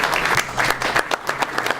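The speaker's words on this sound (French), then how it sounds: "Et ça s'applaudit aussi," Audience applause at an apprentice award ceremony in Lézignan-Corbière, a dense burst of clapping from a crowd that fills the whole moment, with no voice over it.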